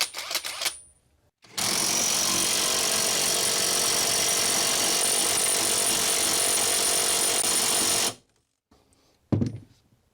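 A 12-volt brushless Hyper Tough impact wrench runs loud and close in one steady, unbroken burst of roughly six and a half seconds, followed by brief handling clatter.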